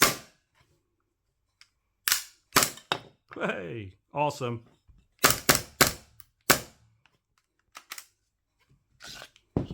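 An Acetech Drumfire gas-powered airsoft sound unit fires a string of sharp, snapping pops during a function test, with short gaps between bursts and a man's brief remarks mixed in.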